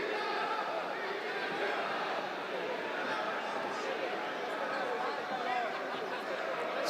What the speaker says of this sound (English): You see that respect, you hear the adulation for Octagon Jr.